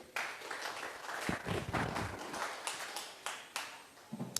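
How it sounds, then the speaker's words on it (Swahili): A church congregation claps during a worship service, a brief burst of fairly faint, uneven hand claps from a group, with no speech over it. "Piga tu Bwana makofi mazuri."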